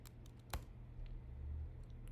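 Faint, scattered keystrokes on a computer keyboard as a command is entered in a terminal, with one sharper click standing out against a quiet low hum.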